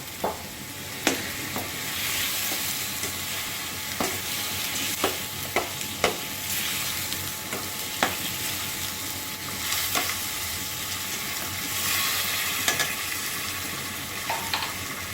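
Goat fat stirred and fried in a pan, a steady soft sizzle broken by intermittent scraping clicks of the spoon, close and fairly quiet with no voices.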